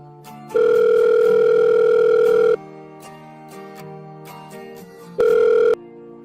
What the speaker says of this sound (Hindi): आंटी वो अलीज़ा मेरा फोन नहीं उठा रही है